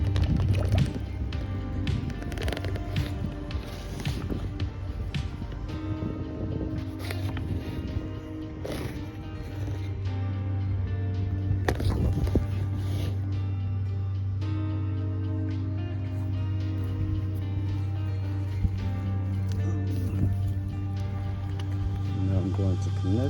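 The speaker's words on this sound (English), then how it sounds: "All right, sump pump going in." A submersible sump pump sits in pool water draining a swimming pool, giving a steady close liquid churn and gurgle with drips and splashes over a constant motor hum; someone speaks briefly.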